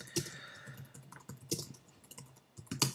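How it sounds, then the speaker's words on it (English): Keys tapped on a computer keyboard in short irregular bursts of close clicks, with brief pauses between clusters of keystrokes. "I'm currently typing this into my computer"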